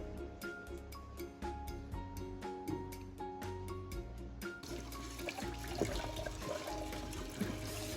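Water is poured over plants during garden care, a steady splashing and trickling that runs throughout at close range, growing busier and more broken in the second half, with no talk.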